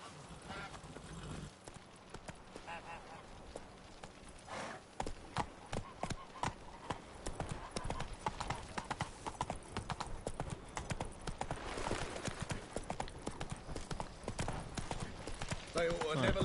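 Roach the horse trots in The Witcher 3: Wild Hunt, with a quiet, steady run of clip-clopping hooves on a hard surface that goes on throughout, alongside soft game ambience and a voice.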